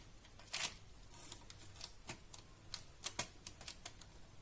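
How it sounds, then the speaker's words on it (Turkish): A fork pokes holes in puff pastry dough on a baking tray, making quiet, irregular light taps and clicks. A soft background rustle runs throughout. "Ve bir çatal yardımıyla çeşitli delikler açıyorum."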